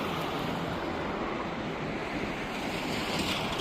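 A river in the Panjshir valley of Afghanistan rushes in a steady, broadband roar, close and unbroken, with some wind buffeting the microphone.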